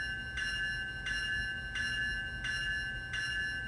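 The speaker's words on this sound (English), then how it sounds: "F1, which is the bell." Electronic locomotive bell from a ScaleTrains Union Pacific Tier 4 GEVo (C45AH) HO model, ringing in five steady, evenly spaced chimes over a constant low hum, close and clear with no talking.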